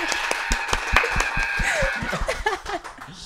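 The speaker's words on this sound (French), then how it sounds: "applaudit dans le studio, s'il vous plaît" Studio audience clapping for a guest on a French talk show, a short burst of distinct, fairly close hand claps mixed with light laughter and chatter.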